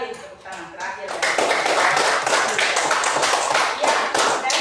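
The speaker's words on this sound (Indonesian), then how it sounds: "Sekali lagi tepuk tangan terakhir." A classroom claps together in a sustained burst of applause, dense and close, lasting several seconds after a brief spoken prompt from a teacher.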